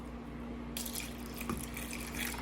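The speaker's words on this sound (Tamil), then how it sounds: "அப்புறம் தண்ணியை விட்டு சோக் பண்ணிக்கிறோம்" A thin stream of water runs steadily into a container to soak ingredients for mani kozhukattai, starting abruptly and continuing with a soft splashing trickle at low volume.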